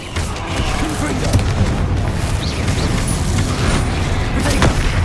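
Confringo fiery blast spell in Hogwarts Legacy combat, a loud, steady barrage of booms and popping bursts that runs densely throughout, with a voice briefly calling over the noise.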